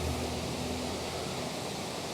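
A waterfall near a bridge at an outdoor beauty spot roars as a steady, dense wash of rushing water, loud and unbroken throughout.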